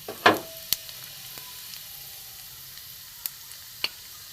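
Panch phoron spices dropped into hot mustard oil in a kadai, opening with a quick crackling burst, then a faint steady hiss with a few sharp clicks of a spoon against the pan.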